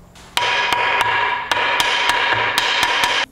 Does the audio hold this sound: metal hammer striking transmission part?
yes